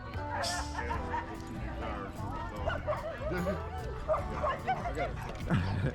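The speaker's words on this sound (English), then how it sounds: "So he sees this dog is barking at that one, he starts barking" Several dogs bark and yip at a dog park amid busy background chatter, the barks fairly faint and scattered under people talking throughout.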